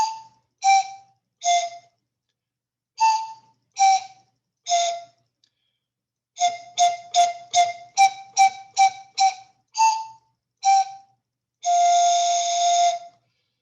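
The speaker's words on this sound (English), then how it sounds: "So that's hot cross buns on our pan flute." A homemade pan flute made of straws plays the simple tune Hot Cross Buns, with breathy, airy notes in short groups of three, then a quick run of repeated notes, ending on one longer held tone. It sounds close and clear with no talking.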